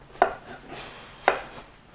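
A kitchen knife chops food on a board, two sharp, close thuds about a second apart over a quiet background, with no talking.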